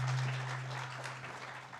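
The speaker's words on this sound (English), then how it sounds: "Yes, a round of applause for them," Audience applause at a 2024 student association presidential debate, a steady, soft wash of many hands clapping from a distance that fades slightly over under two seconds, with a low electrical hum underneath.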